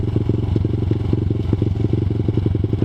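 ZS190 Grom clone motorcycle riding along, its small single-cylinder engine thrumming at a steady low pitch with a rapid pulsing beat, loud and close, with faint clatter mixed in.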